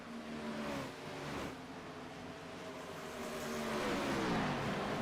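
Gen 6 NASCAR stock cars race at Las Vegas Motor Speedway in a sim racing game, their engines droning and rising in pitch as they accelerate, a steady, moderately loud roar that swells toward the end.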